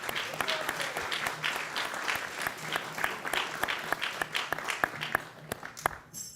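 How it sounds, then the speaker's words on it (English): Audience applause at a gathering of Vaishnavas in an ISKCON temple, with steady dense clapping from a roomful of people filling the whole stretch, some brief louder claps standing out near the end. "We can give a round of applause"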